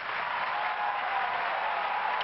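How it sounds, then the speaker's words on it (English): Steady, dense applause from a packed crowd at Wimbledon's Court 1 during a grass-court tennis match, continuous and even throughout. "Barry Cowan is hearing the applause from this packed house at court 1"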